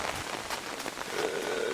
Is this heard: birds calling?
no